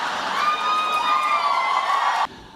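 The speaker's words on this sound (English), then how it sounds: "never gotten quite such an applause before" A large audience at a talk with an Indian film star cheers and whoops loudly with some applause, a bright sustained roar that cuts off abruptly near the end.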